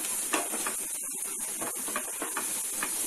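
Rice sautéing in a pan for lemon vegetable fried rice with roasted peanuts, a steady close hiss and sizzle with soft stirring scrapes and small clinks throughout, no talking.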